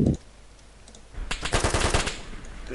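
Automatic gunfire erupts in a video game firefight aimed at a Humvee gunner, a rapid burst of several close, sharp shots following a brief quieter stretch.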